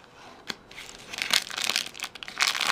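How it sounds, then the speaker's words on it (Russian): Crinkly cellophane packet of cocoa powder being handled up close, with irregular rustling and crackling bursts. "Целлофановый пакетик."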